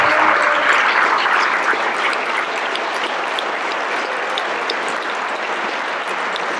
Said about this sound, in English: how about a big round of applause for everybody in this auditorium